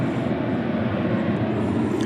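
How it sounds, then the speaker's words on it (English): An American Airlines Boeing 737-800 lands, a brief, steady low engine rumble at moderate distance with no voices. "A little bit of tire dust shooting up there from what is American Flight 669 from Reno"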